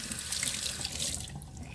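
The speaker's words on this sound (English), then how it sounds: "now what you do is you rinse it with normal water" Running tap water rinsing in a kitchen sink: a continuous hissing, splashing stream, close and steady throughout with no voices.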